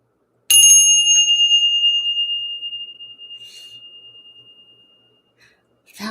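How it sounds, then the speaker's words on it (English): A bell struck once, loud and close, its bright metallic ring fading slowly over several seconds before a brief voice at the very end. "Let's ring the bell."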